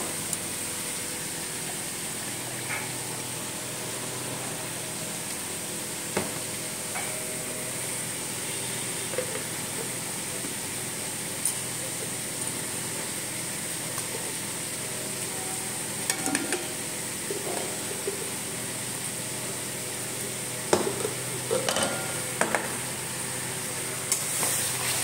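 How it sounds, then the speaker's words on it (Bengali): Tomato paste fries with spices in a pan under a steady hiss, broken by scattered scrapes and taps of stirring that grow a little busier toward the end. "টমেটোর বাটা দিচ্ছি"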